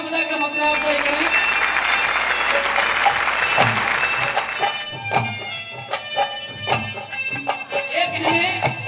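An audience at a Haryanvi ragni stage show claps loudly for the performers, a dense burst that fades after a few seconds into scattered sounds, with music and talk following.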